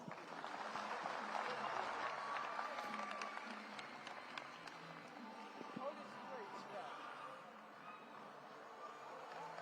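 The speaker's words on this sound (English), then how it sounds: "A round of applause." A round of applause from the crowd at a Kenya Kwanza UDA manifesto launch rally, scattered clapping and crowd noise over nearly ten seconds, with voices speaking over it.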